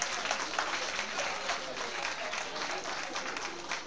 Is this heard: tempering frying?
no